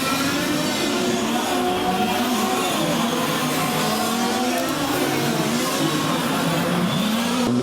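Large-scale RC touring cars at a racing final scream past with high, wavering engine whines, several motors overlapping and sweeping in pitch as they pass, loud and continuous, with faint commentary beneath.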